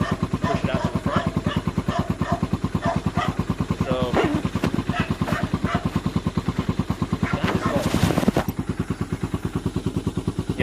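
A Skygo Boss 150 motorcycle fitted with a Nibbi PE26 carburetor and bottle pipe idles steadily, its single-cylinder engine thumping in a fast, even pulse close by, with brief clatter and a voice breaking in near the middle and end.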